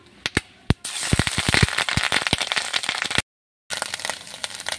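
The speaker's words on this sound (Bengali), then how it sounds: "বাকি ডিমগুলো আমি ভেজে নিচ্ছি।" Fish roe frying in oil in a wok, starting with a few isolated sharp pops, then a dense burst of loud crackling spatter that stops abruptly and returns softer after a short gap.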